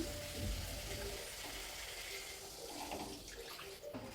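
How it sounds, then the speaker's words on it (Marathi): Water is poured into a hot pan of frying potatoes and brinjal with turmeric, giving a soft, steady gushing hiss mixed with sizzling, faint and continuous throughout. "आता मी घालते पाणी."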